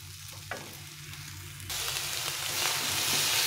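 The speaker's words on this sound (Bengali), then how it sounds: "একদম লো হিটে ছানার সঙ্গে চিনিটাকে ভালো করে মিশিয়ে দিতে হবে।" Chhana and sugar cooking together in a pan over low heat, a soft sizzle that swells into a louder, brighter frying hiss partway through as stirring continues.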